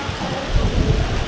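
Rain on a street in South Korea, a dense, steady hiss of falling drops with low rumble, loud and close throughout a short moment, no voices.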